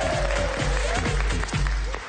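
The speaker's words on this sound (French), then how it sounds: "On l'applaudit bien fort." Studio audience applause on a live TNT Guyane evening broadcast set, dense close clapping with a rhythmic beat underneath, loud and continuous for a couple of seconds.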